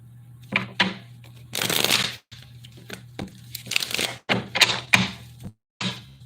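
Tarot cards being shuffled, a series of loud, close riffling and slapping bursts separated by short pauses, with soft thuds between.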